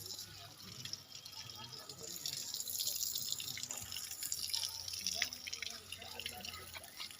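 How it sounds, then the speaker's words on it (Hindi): A steady stream of water trickles and splashes, with scattered drips, soft and continuous throughout and fairly quiet, with no voices over it. "पानी की धारा बह रही थी।"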